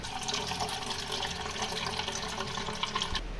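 Cold water runs into a Nolta electric kettle, a steady, close splashing rush that holds without a break for a few seconds.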